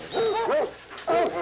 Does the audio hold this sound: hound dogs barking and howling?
yes